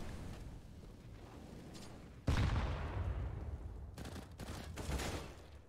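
Gunfire in a Counter-Strike match on the Nuke map, including AWP sniper and XM1014 shotgun shots: a sudden loud blast followed by several sharp bursts, faint ambient game noise before it.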